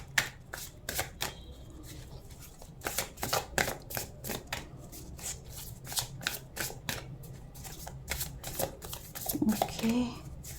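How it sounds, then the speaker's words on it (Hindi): Tarot cards are shuffled close up in quick, crisp riffling bursts, with short pauses between runs and a brief thump near the end. "जब मैं ये कार्ड शफल कर रही हूँ"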